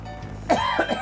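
A few harsh, close coughs burst out in quick succession after a brief quiet moment.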